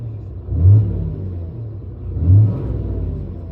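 Cummins 6.7L diesel truck engine with many idle hours, low rumbling idle rising in two short revs about 1.7 seconds apart, close and fairly loud, settling back to idle between them.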